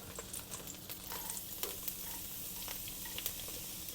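Chopped garlic frying over medium heat in oil and butter in a wok, a faint, steady sizzle with light spattering crackles scattered through it.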